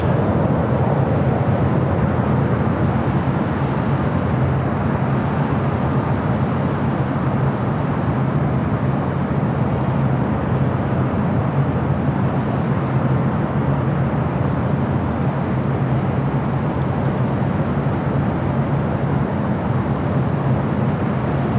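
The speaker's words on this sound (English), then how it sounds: "That 777 freighter rolling down at 25 on the left." Boeing 777 freighter on its takeoff roll down runway 25 at LAX, a steady loud broadband jet roar that holds without letup the whole time, with no talking over it.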